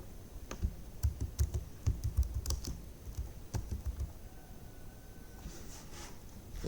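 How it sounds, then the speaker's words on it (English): Keystrokes on a computer keyboard during a Proteus simulation tutorial, a quick irregular run of close, crisp clicks that thins out toward the end with faint background hum. "Just press P on your keyboard."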